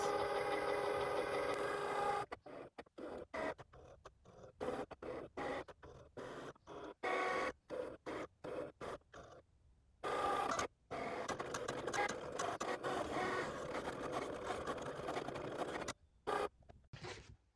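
A Cricut cutting machine cuts glow-in-the-dark heat transfer vinyl with its lid closed, giving a steady mechanical whir broken by repeated short pauses and starts as the carriage moves, heard alone and fairly quiet.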